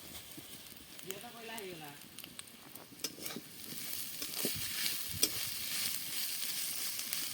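Masala cooks in oil during a home New Year celebration, a steady low sizzle with scattered sharp crackles and pops. Faint voices and a tonal whistle-like sound weave in briefly near the start.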